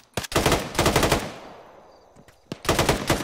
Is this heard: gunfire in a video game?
yes